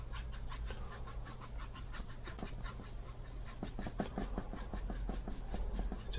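A brush scrubs acrylic paint across a canvas in quick, steady back-and-forth strokes, a faint, close, rhythmic rubbing with no voices.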